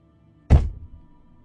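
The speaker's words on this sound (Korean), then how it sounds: "묵직한 작은 충격음이 내 귀에 들려왔다" One heavy, dull thud as a vehicle hits a riverbed underwater, a low muffled impact that decays quickly into quiet.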